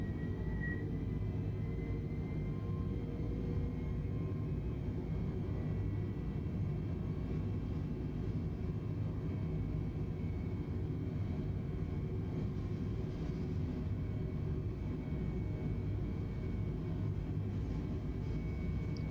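Airliner engines spool at takeoff thrust in Microsoft Flight Simulator 2020, a steady, dense low roar with a faint whine held unchanged throughout, heard alone without talk.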